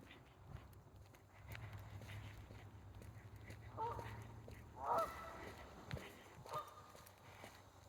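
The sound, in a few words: geese honking while landing on a river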